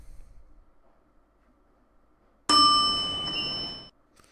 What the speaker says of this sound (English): elevator ding.